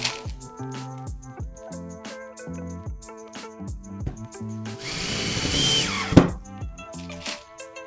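Power drill driving 3.5 x 16 screws into a nightstand with a drawer, with a loud whirring burst of the drill close up, accompanied by intermittent tapping and handling clicks.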